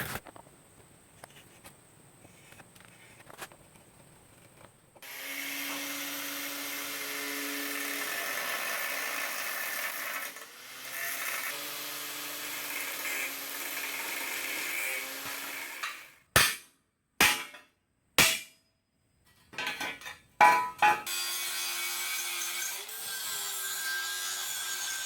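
A cutting tool slices through the bottom of a 1966 Ford Bronco crossmember during an AOD transmission swap, a sustained rasping cut of about eleven seconds followed by several short, loud bursts with pauses between them.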